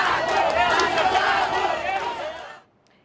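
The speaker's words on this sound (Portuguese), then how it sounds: "Quem decidiu trabalhar foi vaiado." Loud crowd shouting and jeering at striking bus workers returning to work, a dense roar of many voices close by for over two seconds before cutting off to near silence.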